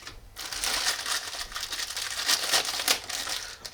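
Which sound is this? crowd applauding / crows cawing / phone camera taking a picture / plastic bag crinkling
plastic bag crinkling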